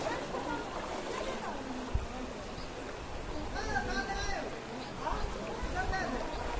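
Fast-flowing floodwater rushing through Jogbani in Bihar near the Nepal border, a steady close rumble and wash of moving water running throughout while someone talks over it.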